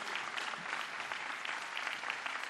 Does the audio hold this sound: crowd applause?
yes